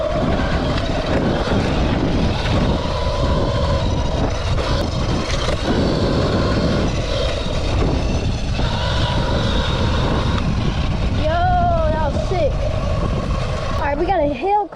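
A Mototec 60v electric dirt bike riding close by, a continuous whine and rumble under heavy wind buffeting, with people talking over it.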